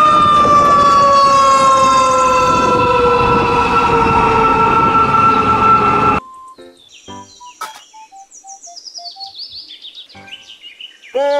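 A loud, sliding siren wail from a toy fire truck plays for several seconds, then cuts to a series of bright electronic beeps and tones.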